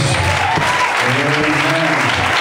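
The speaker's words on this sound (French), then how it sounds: "On acclame Jésus" A church congregation applauds with dense, loud clapping that runs steadily throughout, with voices mixed into the applause.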